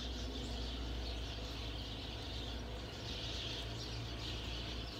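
Small birds chirp and tweet outdoors, a steady scatter of faint, distant calls over a constant background hum, with no talking.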